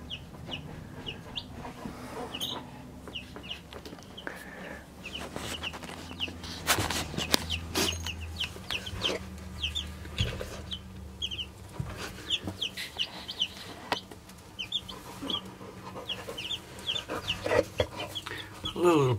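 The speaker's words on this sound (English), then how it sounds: "And there they are, 10 and 1 of chickens." Soft, high peeping and chirping from a group of small baby chickens, repeated constantly, with low clucks and faint rustling in the background.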